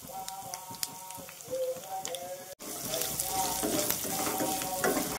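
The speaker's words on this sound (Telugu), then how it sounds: "ఇప్పుడు పచ్చిమిర్చి చీలికలు, మనము ఒక చిటికెడు ఇంగ వేస్తున్నానండి" Curry leaves, slit green chillies and a pinch of asafoetida hitting hot oil while tempering for tamarind pulihora, a brisk close sizzle with stirring clinks that grows louder and denser after a brief cut.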